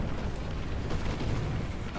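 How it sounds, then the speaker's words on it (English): A War Thunder tank battle with a Panzer IV, where a loud, sustained explosion rumbles continuously for two seconds, a dense low boom close up with no talking. "Explosion."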